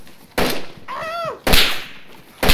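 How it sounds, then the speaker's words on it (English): Gunshots in a multiplayer survival shooter video game, three sharp loud bursts spaced about a second apart, with a brief whistling tone between the first two. "Gunshot!"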